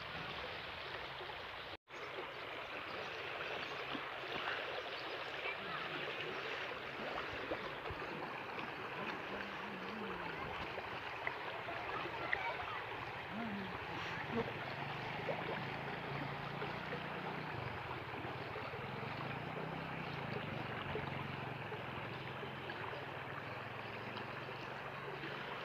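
A river at Sakhi Sarwar, its water arriving in the morning, gives a steady, broad rushing roar that holds at an even level for the whole stretch, with no voices over it.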